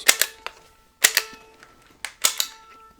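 Sharp plastic trigger clicks from an orange original Nintendo NES Zapper light gun, fired in three quick bursts about a second apart, each a cluster of two or three snappy clicks, close and dry.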